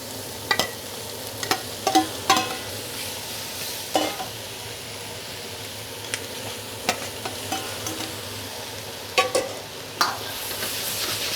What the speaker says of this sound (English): let's go ahead and add the shrimp as well as that squid